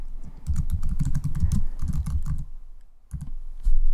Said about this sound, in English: And then type some text.